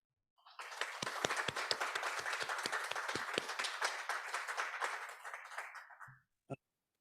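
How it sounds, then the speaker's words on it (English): Welcoming applause from an audience at an Obon service for a guest speaker: dense clapping swells for about six seconds, then fades out, followed by one last sharp tap. "Please show your hands in applause and give Reverend Earl Ikeda a big welcoming"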